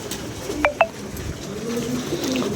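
Pigeons kept by a pigeon fancier give two brief calls in quick succession, heard clearly over a steady, low outdoor background.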